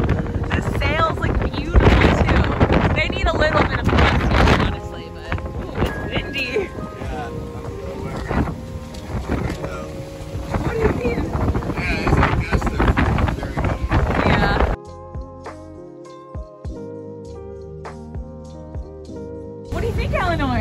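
Strong wind buffets the microphone aboard a schooner under sail, a loud steady roar with gusts under ongoing talk for most of the time, then dropping to a quieter stretch near the end.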